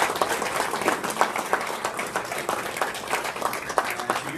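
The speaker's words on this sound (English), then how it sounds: "So a big round of applause for all the volunteers" A banquet audience at the 2023 USHA Nationals in Minneapolis applauds the volunteers, a dense, steady patter of many hands clapping at moderate distance with no speech over it.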